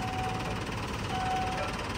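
A Transtron voice warning unit fitted to a truck sounds its brake tone, a thin steady electronic tone repeating over a constant engine drone, faint and close.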